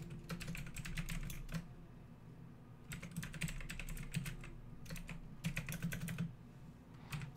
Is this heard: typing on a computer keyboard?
yes